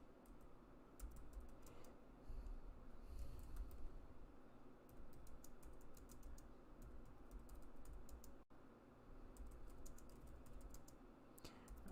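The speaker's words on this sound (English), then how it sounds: "I'm typing this out." Typing on a computer keyboard, close and fairly quiet, with bursts of rapid clicking keystrokes separated by short pauses against a low background hum.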